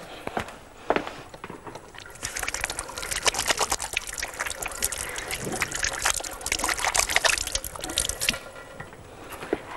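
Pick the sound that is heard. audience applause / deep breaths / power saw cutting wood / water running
water running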